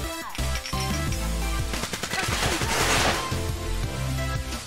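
Rapid bursts of gunfire crackle in the Zooba mobile battle game, dense overlapping shots stacked over background game music, loud and close for several seconds.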